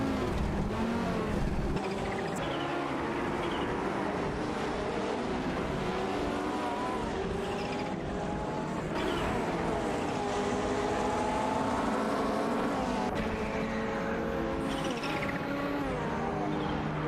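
Race car engines drone steadily in a racing video game, with a bot's Audi Sport Quattro battling a Toyota Celica, continuous loud layered engine tones shifting in pitch throughout with no talk.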